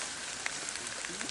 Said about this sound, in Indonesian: walaupun keadaannya hujan